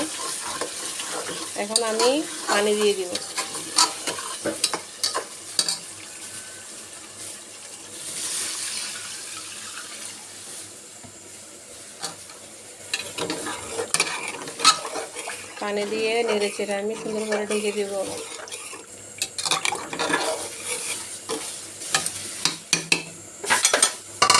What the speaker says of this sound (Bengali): ঢেকে দিই আর একটু কষাবো গোস্তটা আমার আমার কষানো শেষ এই যে তেলটা উপরের দিকে চলে আসছে